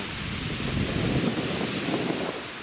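Steady, strong wind roaring across open water while fishing from a boat in summer, a broad rushing hiss with gusts swelling midway, no voices.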